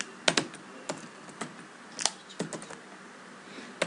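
Router configuration commands being typed on a computer keyboard: sharp, close keystrokes in irregular clusters with brief pauses between them, heard alone without talk.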